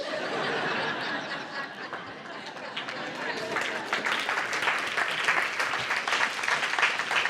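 A conference audience applauds steadily, a dense wash of clapping that swells toward the end, mixed with scattered laughter and chuckles.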